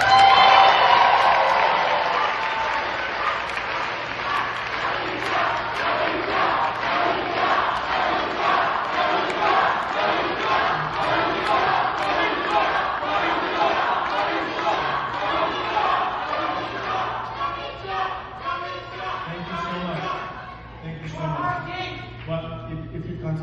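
A large audience at a speech cheers and shouts loudly and continuously, with applause and chanting that fade toward the end as a voice begins speaking over the remaining crowd noise.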